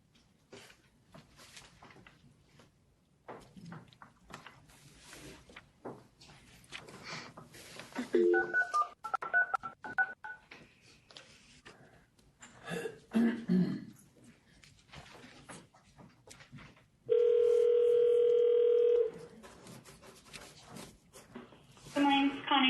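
Telephone line during a commission meeting call: a burst of loud steady dial tone near the end, with faint keypad tones, amid scattered clicks, handling noises and people talking.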